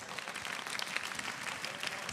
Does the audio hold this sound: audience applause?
yes